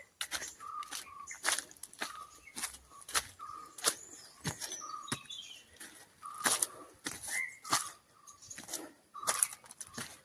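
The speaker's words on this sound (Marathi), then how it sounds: "तर कवडा ओरडतोय." A dove calling in a Konkan forest, short repeated coos spaced every second or so, moderately distant amid quiet woodland with occasional sharp clicks and rustles.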